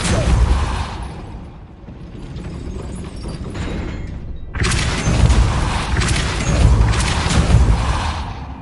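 Depulso spells are cast in Hogwarts Legacy, producing heavy booming blasts and rumbling impacts that fade, pause briefly, then burst loudly again with crackling debris.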